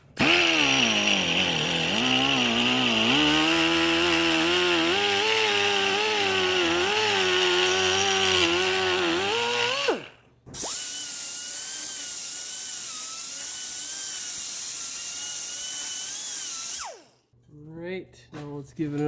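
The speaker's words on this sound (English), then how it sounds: "So let's do some more grinding." Loud, continuous whining grind of a power tool working near the lower ball joint of a 2010 Subaru Impreza, with the pitch wavering under load and two brief stops, the second followed by a short, choppy restart.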